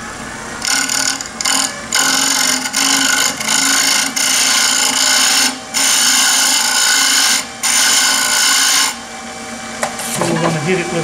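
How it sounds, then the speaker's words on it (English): Light draw cuts with a turning tool on a spinning wood lathe make bursts of bright hissing scrape, several separate passes broken by short pauses over the steady hum of the machine. "I'm just going to do a couple of little draw cuts."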